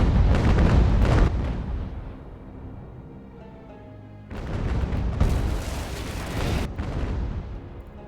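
Naval cannon volleys from a sea battle in Ultimate General: American Revolution, heavy booming bursts at the start, a quieter rumbling lull, then a renewed run of loud overlapping blasts.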